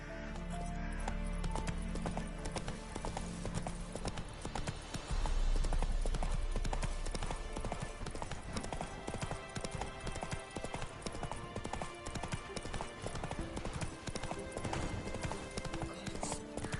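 Roach the horse from The Witcher 3 galloping, with continuous rapid clip-clop hoofbeats under a dense, loud game soundtrack and effects that never let up.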